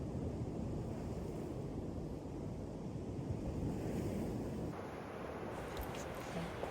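Ocean surf washes steadily onto Koki Beach, a sand shore of white sand and red cinder with a rip current, heard as a continuous broad roar mixed with wind buffeting the microphone.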